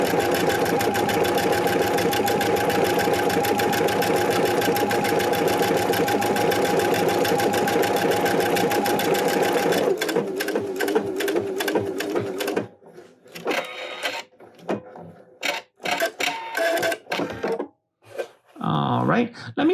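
A Pfaff Performance Icon sewing machine runs steadily, stitching a hand-look stitch with a loud, even mechanical whir for about ten seconds. It then stops, leaving scattered softer handling clicks and a bit of talk.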